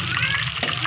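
Chicken pieces fry in a pan for biryani, giving a dense, continuous close sizzle with a brief stirring scrape partway through.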